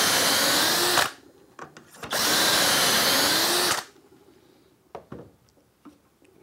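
A power drill bores dowel holes through a Dowelmax jig in two loud, sustained bursts of a second or more each, separated by short pauses and followed by faint handling clicks.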